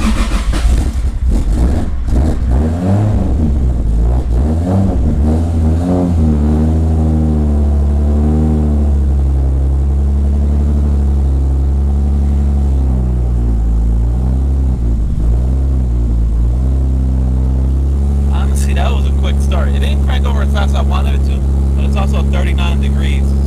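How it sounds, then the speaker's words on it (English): A car left unstarted for about three weeks in cold weather cranks briefly, fires up and settles into a loud, steady rumbling idle, with the engine revving and wavering early on before evening out. "This car hasn't been started in weeks, probably 3 weeks, and fired right up."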